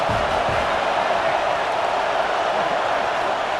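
A video game stadium crowd in College Football 26 roars in a dense, unbroken wash of cheering that holds at an even level throughout, with no distinct voices standing out.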